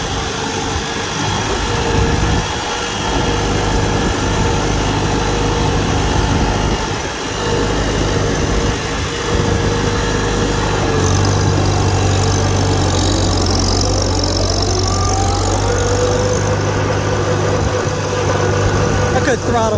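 A 1949 Farmall Super A tractor engine runs steadily as the tractor drives along a freshly paved road, a loud, close, continuous mid-pitched drone with light background talk.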